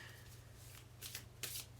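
Tarot cards are shuffled quietly up close, a few soft riffling bursts of papery flutter over a low background hum.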